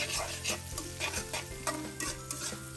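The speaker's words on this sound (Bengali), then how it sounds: "এখন আমি পরিমাণ মতো পেঁয়াজ কুচি দিব আর এখানে রসুন কুচি নিয়েছি এটাও দিব বিয়ার দিয়ে ভালো মতো করে নাড়াচাড়া দিয়ে" Chopped onion and garlic stirred in a pan as they fry, a quiet sizzle beneath repeated rhythmic scraping strokes of the spatula, close and moderately soft.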